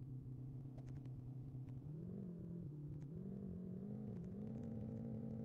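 The engine of a cheap, shabby car rumbles steadily from inside as it drives, its low drone rising and falling slightly with throttle, with faint clicks and rattles over the top.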